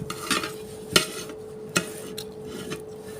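A spoon clinks against a cup while stirring coffee, a few sharp metallic taps spaced irregularly over a faint steady background hum, close and fairly quiet.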